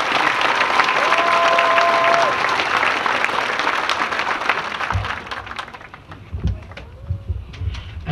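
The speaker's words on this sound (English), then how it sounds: "Please give them another round of applause" A crowd applauds steadily at a high school graduation, a dense wash of clapping that thins out toward the end, with a few scattered claps and faint murmurs remaining.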